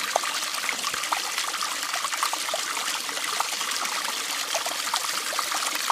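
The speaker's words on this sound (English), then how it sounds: "So as I pull, it's pumping, as I push, it's pumping." Stream water is pumped through a Katadyn double-action filter, giving a steady faint trickling, splashing wash with small clicks throughout, no voices.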